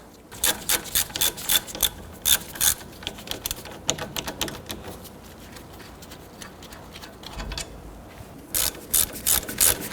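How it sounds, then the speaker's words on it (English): Ratchet loosening a 17mm brake caliper bracket bolt on a 1990s Toyota Camry, close rapid clicking in short bursts with brief pauses between strokes, fairly quiet and alone. "Remove the brake caliper bracket, 17mm bolt here, and one right up above."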